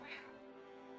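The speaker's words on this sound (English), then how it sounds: "I just rub your back and you meow." A pet cat lets out one short, soft meow at the start while its back is being rubbed, quiet and close, followed by faint room tone.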